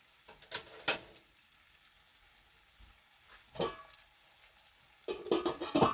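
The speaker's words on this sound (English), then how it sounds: "So let these onions cook." Onions frying in a pan on a home stove, soft scattered sizzling crackles with sharper bursts of spattering near the start, middle and end, close and fairly quiet with no talking.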